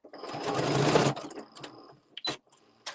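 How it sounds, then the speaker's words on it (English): A sewing machine stitches for about a second as fabric is sewn off the edge, a close buzzing whir. It is followed by a couple of short clicks and bursts. "I'm going to leave the needle down, lift the foot, and pivot, and sew off the edge."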